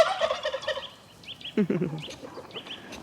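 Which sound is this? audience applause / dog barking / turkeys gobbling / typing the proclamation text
turkeys gobbling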